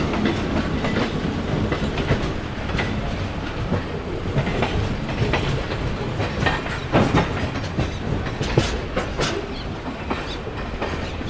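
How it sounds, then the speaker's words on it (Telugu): The Adilabad–Tirupati Krishna Express pulls out of Vijayawada station with a continuous loud rumble and rhythmic wheel clatter over the rails, and no voices are heard. "ఆదిలాబాద్ నుంచి తిరుపతి వెళ్ళే కృష్ణ ఎక్స్ప్రెస్ అయితే విజయవాడ నుంచి డిపార్ట్ అవుతుందని"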